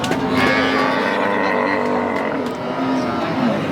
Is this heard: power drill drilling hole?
no